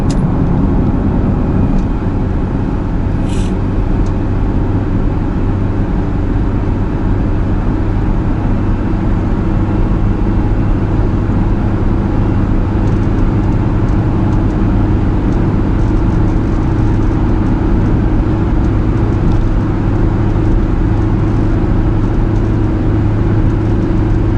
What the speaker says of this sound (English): I'm just right now pottering along at 80 kilometers per hour.